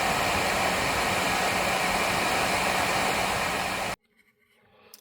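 Hot air blower warming the glue on a Bose QC45 headphone hinge, a steady close whooshing rush that cuts off abruptly near the end, leaving faint handling noises.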